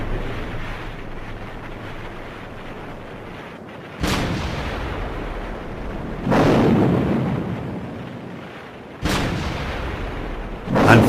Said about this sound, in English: The morning erupted into a firestorm of shells and rockets.